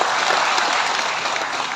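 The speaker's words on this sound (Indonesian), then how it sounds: "Tepuk tangan dulu." Brief burst of loud, dense applause from an audience at a community event, sustained clapping with no pauses throughout.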